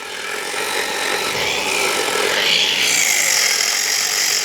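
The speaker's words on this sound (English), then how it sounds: "give it a very quick wire wheel where we're going to be welding." A wire wheel on a power tool scrubs a cast iron part before welding, giving a steady, continuous abrasive whir that stays loud and close throughout, rising slightly in pitch partway through.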